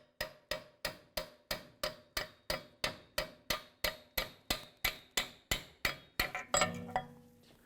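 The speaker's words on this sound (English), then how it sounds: "I was using a steel hammer right on the end of this" A steel hammer strikes the end of an axle, driving it through the rear wheel bearing and hub of a 2005-2009 Chevy Equinox, about eighteen sharp ringing metallic blows in a steady rhythm, ending in a few rapid hits and a clatter.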